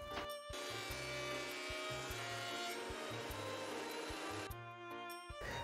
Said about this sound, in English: Planing until all boards look good as fuck and are the same height.